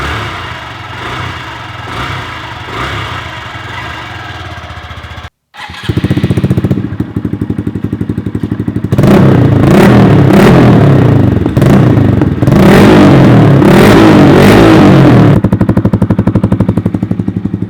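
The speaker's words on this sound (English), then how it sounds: "I'm going to start this bike up so you guys can hear the sound difference it actually makes." A Honda Grom motorcycle with an aftermarket dual exhaust idles, cuts out briefly, then restarts and runs loud and close with deep, throaty exhaust pulses and a few blips of throttle.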